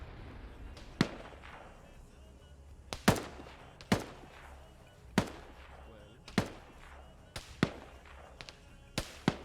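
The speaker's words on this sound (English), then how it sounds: "You still hear that sniper firing." Sniper rifle shots crack repeatedly in a tactical shooter video game, about ten sharp reports at uneven intervals, each with a short echoing tail over low background rumble.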